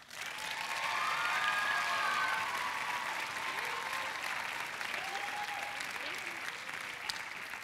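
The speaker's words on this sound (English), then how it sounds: "Give them a round of applause." Audience applause after a school drama department performance of Aladdin, a full, sustained burst of clapping from a crowd with faint cheering, steady from start to finish.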